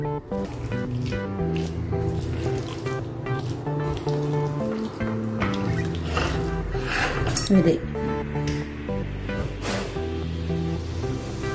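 A spoon stirs aloo palak, a potato and spinach curry, after fresh green coriander goes in, clinking and scraping against the pot with soft wet squelches, while a person talks over it throughout.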